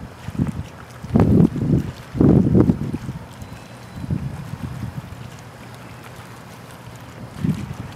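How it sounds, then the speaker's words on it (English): Light wind of about 3 or 4 knots on a sailboat, heard as buffeting gusts and rushing against the microphone, louder in the first few seconds and then settling into a steadier, softer whoosh. "I'd say this is about a 3 or 4 knot wind now."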